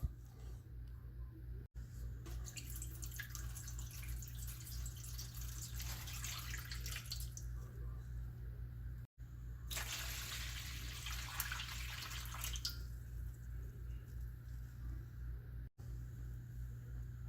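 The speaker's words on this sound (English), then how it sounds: "we're going to add about halfway up with water" Water runs and splashes steadily into a pan holding a foil-wrapped cheesecake pan, filling it about halfway up for a water bath, in two bursts of a few seconds each, over a constant low hum.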